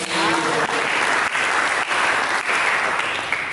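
Steady congregational applause fills a church service, a thick wash of many hands clapping at once, loud and continuous from start to finish.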